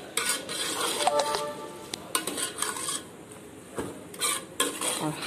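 Zarda rice cooks in milk over a high flame while a spoon stirs and scrapes against the pot, giving bursts of clinks and scraping over a low bubbling sizzle, close up with short pauses between strokes.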